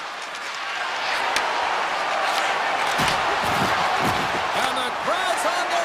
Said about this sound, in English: the crowd's on their feet, saluting the team after a hard-fought effort this evening